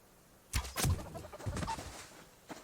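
Chickens in the survival game Subsistence cluck in a few short bursts, a pair of louder calls near the start, then softer clucks trailing off, with no voices over them.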